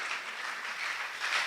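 Steady, dense applause from a church congregation fills the whole moment, a continuous wash of many hands clapping at moderate volume with no voices standing out.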